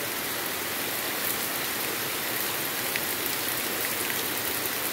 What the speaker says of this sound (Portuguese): Esse barulho da chuva é muito, muito maravilhoso.